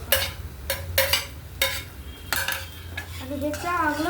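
Curry leaves sautéed in a pan with onion and green chillies, heard as several sharp metallic clinks and scrapes of a utensil against the pan over a low background hum, with a quiet tonal whine near the end.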